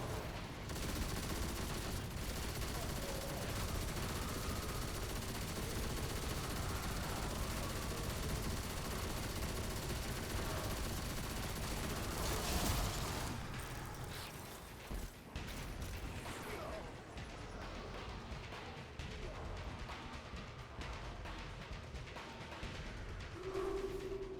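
Rapid machine gun fire in a video game keeps up as a dense, sustained burst at moderate loudness, then thins out into scattered shots and mechanical clicks near the end.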